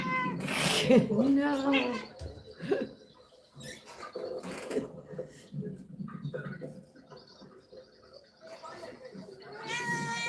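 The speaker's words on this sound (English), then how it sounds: "And there's a cat." A cat meows repeatedly aboard a flotilla vessel, close and insistent, with several drawn-out cries scattered over the stretch while a person speaks briefly and other background noises come and go.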